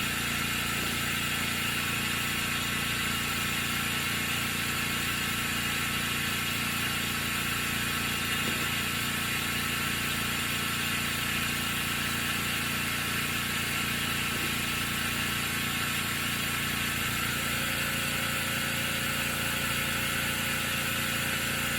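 A Specialty Coating Systems G3P-12 spin coater spins at high RPM, giving a steady, faint, continuous mechanical hum and whine with no pauses.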